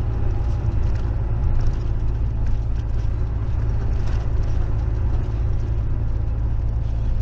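A truck drives along a rural road in Pernambuco, its engine a steady, loud low rumble that carries on unbroken throughout.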